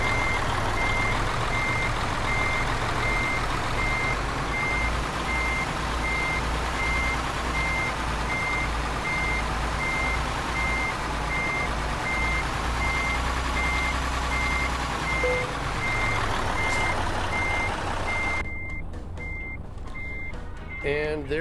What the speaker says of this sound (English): And get myself a little room to back it up.